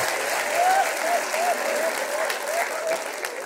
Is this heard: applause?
yes